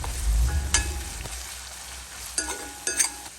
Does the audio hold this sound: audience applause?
no